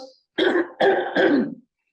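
Three quick, rough throat-clearing bursts in a row, close and fairly loud, then silence.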